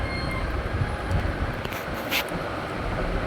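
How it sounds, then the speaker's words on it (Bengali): A train arriving at a station gives a steady, loud rumble of wheels and carriages, with a brief higher screech near the middle and no voices. "ট্রেন আসলো একেবারে 12টায়।"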